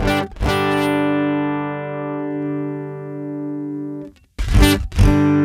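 Plucked acoustic guitar chord through a piezo pickup with no preamp or reverb rings out dry and direct, sustaining for several seconds before a second strum; thin, unprocessed pickup tone with no talking.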